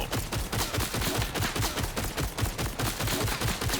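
Sustained automatic gunfire from weapons in Borderlands 4, a rapid, evenly spaced stream of shots that stays loud and continuous from start to finish.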